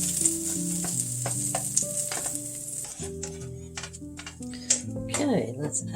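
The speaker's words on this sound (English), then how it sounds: "let's put in 1 teaspoon of minced garlic, and let's cook that for about 30 seconds" Minced garlic sizzles in a hot pan with a bright, steady hiss, joined by stirring scrapes and clinks. A voice talks over much of the cooking noise.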